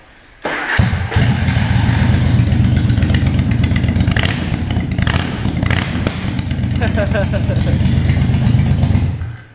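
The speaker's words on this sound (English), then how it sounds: "Listen to this bike with this is the Virago as well." A 1983 Yamaha Virago 750 Midnight Special motorcycle engine rumbles at a steady idle after firing up, loud and close, its low throb holding even to the end.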